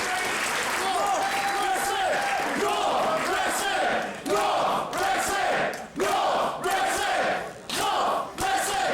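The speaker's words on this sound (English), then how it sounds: "Give yourselves a round of applause." A large crowd applauds and cheers loudly, sustained clapping mixed with shouts and whoops, with a few brief dips and swells.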